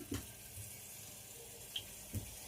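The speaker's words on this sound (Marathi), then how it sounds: "तोपर्यंत मी कोथंबीर धुवून घेते" Fresh coriander leaves are rinsed under a running kitchen tap, giving a faint, steady water rush with a few soft splashes and clicks, and no talking.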